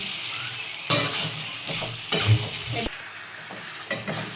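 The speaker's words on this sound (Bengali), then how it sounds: "মশলা কষানো হয়ে গেছে, এবার যে আলুটা ভেজে রেখেছি নুন হলুদ দিয়ে সেটার মধ্যে দিয়ে দিচ্ছি" Fried potatoes, first fried with salt and turmeric, tipped into a pan of cooked-down spice masala and stirred for Kashmiri aloo dum, giving a close steady sizzle broken by several scraping, clattering stirs of the spoon against the pan.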